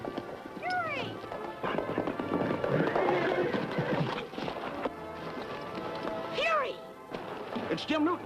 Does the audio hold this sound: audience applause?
no